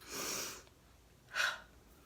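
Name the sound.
sneeze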